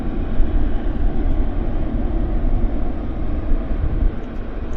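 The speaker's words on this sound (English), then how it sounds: "big airplane here" Broad, steady rumbling roar from a large airliner at Vancouver Airport, a Boeing 777 arrived from Heathrow, heavy low-end drone sustained evenly throughout with no voices over it.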